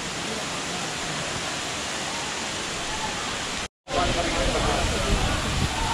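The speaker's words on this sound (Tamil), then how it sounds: "ஃப்ரெண்ட்ஸ் இதான் வந்து ஆகாய கங்கை நீர்வீழ்ச்சி." Aagaya Gangai waterfall in the Kolli Hills roars as a dense, steady rush of falling water, loud and close, with a brief dropout partway through.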